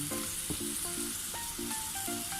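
Carrots being stir-fried in a pan for a sotanghon noodle dish with canned tuna: a steady close sizzle under repeated scraping and clacking of a utensil against the pan, with no talk.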